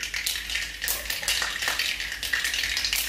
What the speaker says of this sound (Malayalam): ഇപ്പൊ നമ്മുടെ കടുക് പൊട്ടി വന്നിട്ടുണ്ട്.